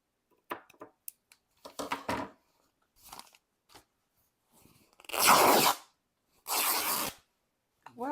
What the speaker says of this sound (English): it's good that I'm getting this fabric cut down quite a bit.